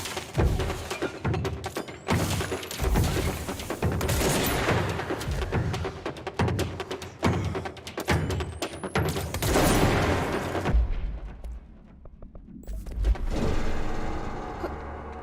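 Video game gunfire, a dense, continuous barrage of booming shots and thuds with rapid bursts, loud throughout, briefly easing before another burst near the end, no speech.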